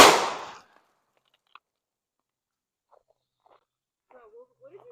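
A single sharp, loud shot from a Glock pistol (a Glock 19 or 26) cracks at the very start and decays quickly into silence, with faint voices stirring near the end.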